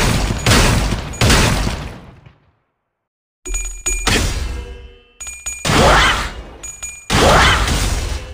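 Loud bursts of gunfire erupt as shooters open fire, heavy volleys in repeated clusters with a brief silent gap, ringing metallic tails and whooshing effects between bursts.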